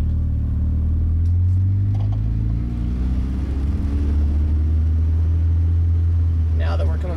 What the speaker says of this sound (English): rev the car a little bit, let out of the clutch slowly